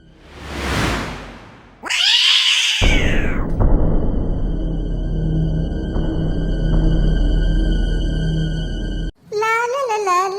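A cat meows in a Tamil animated cartoon, with loud, clear, drawn-out cries rising and falling in pitch. The meows come among other bright cartoon sound effects and a sustained droning tone, and no one speaks.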